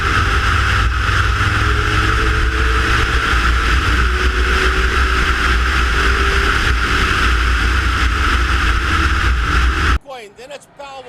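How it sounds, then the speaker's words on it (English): A Ford Mustang race car's engine roars at full power, loud and sustained through most of the clip, with a race commentator talking over it before the sound cuts away abruptly near the end. "Michael Hitchcock is going to wind up that Mustang and just use the brute power of it"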